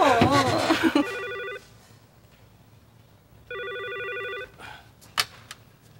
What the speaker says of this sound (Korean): 준호 전화 받으라고 해라